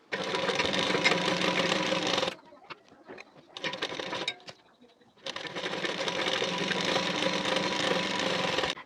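A sewing machine stitches blouse fabric with nylon cloth laid over it in two runs of busy mechanical whirring, separated by a quieter stretch of brief starts and fabric handling.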